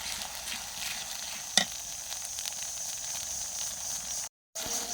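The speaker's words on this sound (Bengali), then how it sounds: "আর এই যে এখানে আমি আদা রসুন বাটাও দিয়ে দিয়েছি। তো কিছুক্ষণ নেড়ে নিব" Ginger-garlic paste frying in a pan, a steady close sizzle with soft stirring scrapes and one sharp clack partway through, then a brief silent gap near the end.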